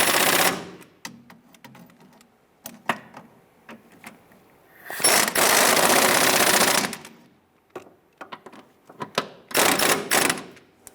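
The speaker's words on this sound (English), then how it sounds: "Let's tighten down our horizontal bolts here for that bracket." Engine mount bracket bolts on a 1999–2004 Jeep Grand Cherokee 4.7L V8 being tightened: a loud rapid mechanical rattle in a few bursts of one to two seconds, with sharp clicks and knocks of tools in the pauses.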